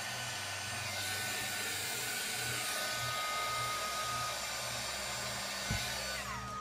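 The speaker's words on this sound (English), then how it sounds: "Now we're all done with the heat gun." Heat gun blowing hot air over a glued craft piece, a steady continuous whooshing drone that holds at an even level throughout with no talking.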